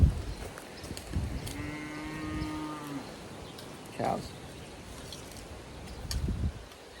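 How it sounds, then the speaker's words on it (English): Cows on a farm give one long, low, drawn-out moo with a steady tone, fairly close, followed by a shorter call and a few soft rustles in a quiet outdoor setting. "Cows."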